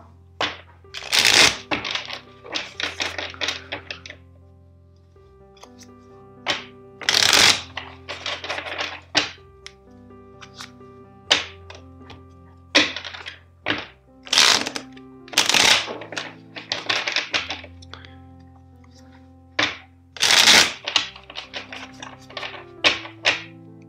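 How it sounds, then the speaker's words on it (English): Repeated bursts of tarot cards being shuffled, each riffle a crisp flurry followed by a soft tap, with short pauses between rounds; close and clear, no talking. "but first let's shuffle four times."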